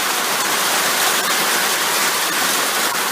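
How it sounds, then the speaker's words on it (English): Heavy rain pouring steadily, a dense, loud and unbroken hiss with no gaps or voices. "Now the rain's getting heavy again."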